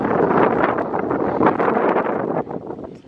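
Strong wind gusting across an open hilltop in the Yorkshire Dales, a loud, steady roar buffeting the microphone for the whole stretch, easing a little near the end, with no clear voices.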